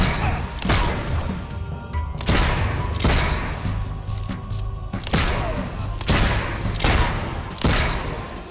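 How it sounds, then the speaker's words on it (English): Gunfire from enemy mercenaries in the video game Fable 3 crackles in loud, repeated bursts roughly every second, heavy booming shots layered over a dense, constant battle din. "The sucker's shooting at us."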